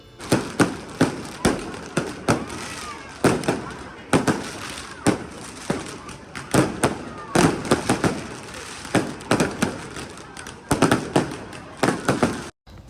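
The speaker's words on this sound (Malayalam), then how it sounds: "പ്രദക്ഷിണം തുടങ്ങുന്നതിന് തൊട്ട് മുമ്പുള്ള ഫയർ വർക്ക്സ് വീണ്ടും സ്റ്റാർട്ട് ചെയ്തിട്ടുണ്ട്" Fireworks set off just before the procession at a church feast in Malta, a rapid series of loud booming bangs and crackling bursts, close and continuous, with crowd voices faintly underneath.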